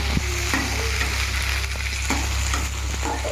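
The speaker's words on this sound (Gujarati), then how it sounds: "જો મરચા તળી રહ્યા છે." Green chillies frying in hot oil give a steady, close sizzle, with occasional stirring scrapes and clinks of a utensil throughout; no one speaks.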